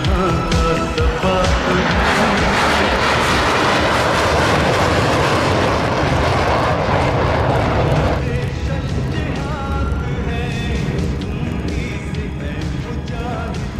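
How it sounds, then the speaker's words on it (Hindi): A Pakistan Air Force F-16 fighter performs a muscle climb at a Pakistan Day airshow, its jet roar loud and sustained before fading toward the end, with an announcer speaking over it. "demonstration of muscle climb by the F-16 aircraft"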